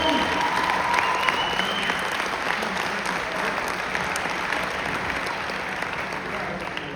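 Sustained applause from a wedding reception crowd for the speech givers, a dense, even wash of clapping that carries steadily throughout at a moderate level.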